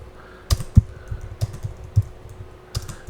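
Keys tapped on a computer keyboard, close and clear, with a handful of separate clicks and a few louder strikes spread unevenly across a quiet room with a faint steady hum.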